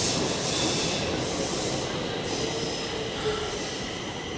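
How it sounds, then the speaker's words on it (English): A metro train rumbles steadily into Slussen station with broadband roar and faint high squealing from the wheels, loud and continuous throughout. "Train to Skarpnäck coming in."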